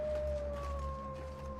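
Wolf howling in The Long Dark survival game, a long sustained tone that slowly glides downward with a second higher line joining midway, moderately faint over a low steady rumble, with no talking.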